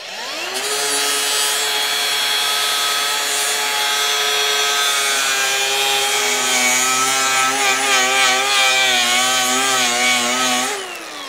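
A zirconia-grit flap disc on a power tool strips finish off wood with a loud, steady whining grind that holds for about ten seconds, its pitch wavering slightly before it winds down.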